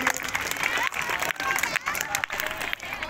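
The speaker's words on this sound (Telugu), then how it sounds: "గట్టిగా చప్పట్లు పెట్టండి అభిషేక్ కి" Audience clapping for a prize winner at a prize-giving event, dense continuous applause with a crowd murmur and a voice speaking over it.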